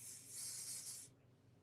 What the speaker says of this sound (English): I'm just going to spray them down with hairspray, and that'll help the pastels to not rub off.